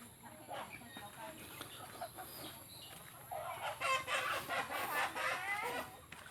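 Chickens and ducks kept at a rural farm in Isan, Thailand, clucking and cackling continuously, growing louder and busier in the second half, with someone talking nearby.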